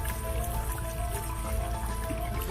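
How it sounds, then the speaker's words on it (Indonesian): Water trickles and drips slowly at an archaeological excavation of an old brick structure, a steady close wash of small splashes and droplets running continuously without a break. "tapi walaupun begitu ada air mengalir yang tidak terlalu kencang"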